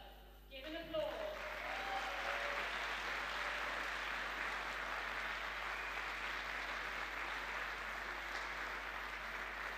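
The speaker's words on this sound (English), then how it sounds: "Give an applause." Applause for a third-place winner at a historical fencing and wrestling tournament awards ceremony, a steady broad wash of clapping that rises quickly after a brief voice and holds evenly for several seconds.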